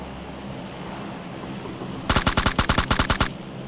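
A burst of rapid automatic gunfire from the mobile battle royale game PUBG Mobile, played as a squad in a swamp map. About a dozen loud, close shots crack in quick succession after two seconds of quiet background.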